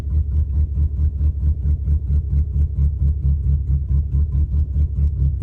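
A Nissan N13 Sunny Pulsar engine idles close by with a choppy, rapid puttering pulse from an exhaust leak, steady and loud throughout.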